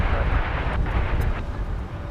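A Boeing 757 at DFW Airport produces a dense, roaring jet rumble, loud and continuous, with a faint whine in the upper range and no talking.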